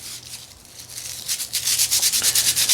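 Sandpaper rubbed over wooden peg loom pegs, starting with slower scraping and building into quick, regular back-and-forth strokes, close and loud, with no talk.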